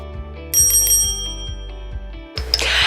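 A bright bell chimes three quick times over a sustained musical tone, then a short whooshing burst follows.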